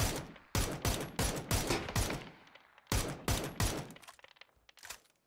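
Gunfire in the video game PUBG: two bursts of rapid, evenly spaced shots, each loud crack fading into echoing reports, the second burst trailing off into quieter scattered shots.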